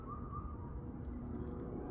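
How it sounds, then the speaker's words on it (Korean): A bird calls softly in a forest, the faint, distant notes rising briefly over a steady low rustle of outdoor ambience. "숲속에서는 아름다운 새소리가 여전히 들려줍니다."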